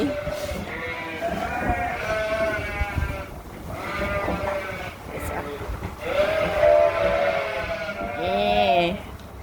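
A flock of hungry sheep bleating for feed in the morning, many overlapping wavering calls from close and farther animals, some loud and drawn out, with a person speaking at times between them.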